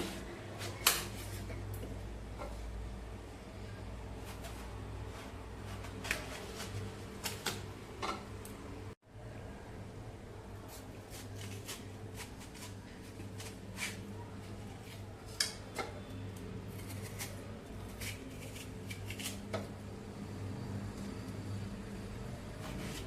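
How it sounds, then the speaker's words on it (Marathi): A knife works through red watermelon flesh in a home kitchen, with scattered sharp clicks and taps of the blade on a board and dish over a quiet background, coming in irregular bursts. "आता कलिंगड कापून आपण मधला सगळा कलिंगडाचा लाल भाग आहे तो कापून काढूया"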